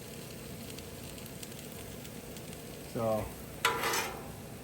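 New York strip steaks and onions sizzle on a Blackstone griddle, a steady close frying hiss with two short louder bursts of scraping and stirring near the end; a voice speaks a single brief word.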